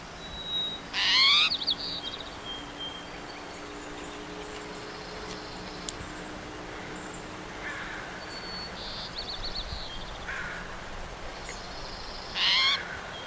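A towhee sings two short, bright trills about ten seconds apart, with fainter calls of other birds between them over a steady outdoor hiss.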